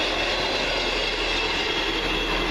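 A First Great Western train service to Great Malvern pulls into a station with a loud, steady rumble that holds evenly throughout, heard close and with no voices.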